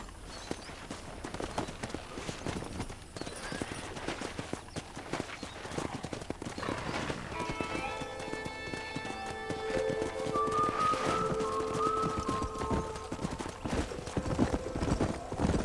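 Horse hooves clip-clop steadily in the video game Red Dead Redemption, a brisk, even rhythm of close footfalls, joined midway by a wild horse's whinny and ringing tones from the game.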